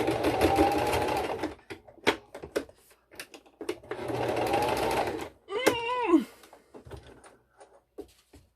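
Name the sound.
sewing machine stitching a face mask seam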